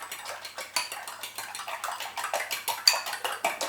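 A fork beats eggs in a bowl while making banana bread and butter pudding, a quick irregular run of light metallic clinks and taps against the bowl, fairly close and quiet, with no talk.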